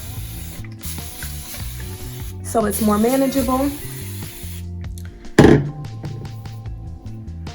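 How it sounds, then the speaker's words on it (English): A quick hiss of a spray bottle misting water onto hair, heard near and loud over soft background noise, with a person speaking briefly. "I'm gonna go ahead and just give it a quick spray down with some water"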